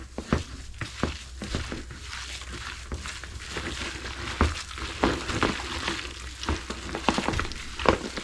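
Ground meat and liver being mixed by gloved hands in a bowl for canning, heard as wet squelching and slapping in irregular bursts, fairly close, with no talking.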